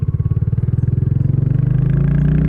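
Loud, close motorcycle engine with a rapid pulsing putter that smooths into a steady drone as it picks up speed on a highway, on a monsoon ride from Bangalore to Chikkamagaluru.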